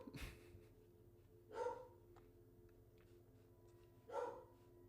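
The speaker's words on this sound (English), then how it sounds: "There goes the dog" A dog barks twice, a few seconds apart, faint and somewhat distant, over a low steady background hum.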